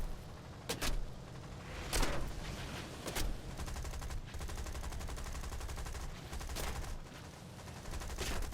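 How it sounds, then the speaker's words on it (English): The rear gunner of a Beaufighter in War Thunder fires his machine gun in short, rapid bursts, rattling over a steady aircraft engine drone, moderately close. "My rear gunner is shooting."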